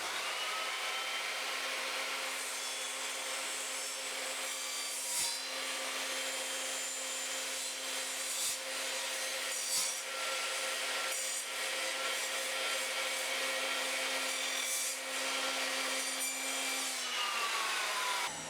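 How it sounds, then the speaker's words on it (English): Evolution Rage 3 sliding mitre saw cutting through nailed timber, a steady loud whining motor drone with a sustained tone for about seventeen seconds, a few sharp clicks along the way, then the blade winding down. "We're now just going to cut a couple of inches off that."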